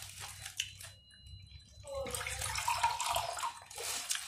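Water from a green coconut pours out in a splashing, trickling stream, starting around two seconds in and continuing steadily after a few faint clicks and handling noises, close up.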